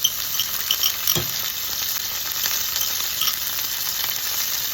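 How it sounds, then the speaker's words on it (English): Cherry tomatoes and rinsed capers sizzle and crackle steadily in a hot pan for Sicilian swordfish alla Messinese, with a clink of stirring early on. "Now we put the cherry tomatoes. The capers."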